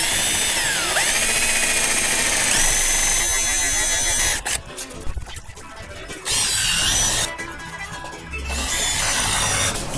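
Power drill driving screws into wall studs while hanging garage organization rails, loud motor whine in repeated bursts with short pauses and a final run near the end.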